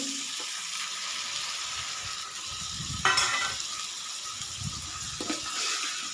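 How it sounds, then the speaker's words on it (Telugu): Tomato pieces sizzling in a pan for ivy gourd curry, a steady soft frying hiss with occasional louder crackles and stirring clatter, close and alone. "బాగా ఫ్రై అవుతుంది చూడండి"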